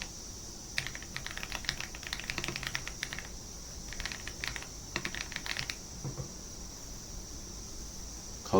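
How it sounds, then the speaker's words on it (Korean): Typing on a computer keyboard while building a spreadsheet document, with bursts of close, quick key clicks in short clusters separated by pauses, fairly faint under a steady background hiss. "글자를 입력해 줍니다."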